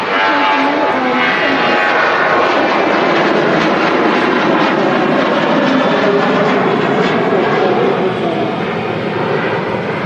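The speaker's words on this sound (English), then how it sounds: "It looks like a Boeing 737 rolling now." A Ryanair Boeing 737 rolls for takeoff at Manchester Airport, a loud, steady broadband engine roar that holds strong throughout, with a voice talking over it.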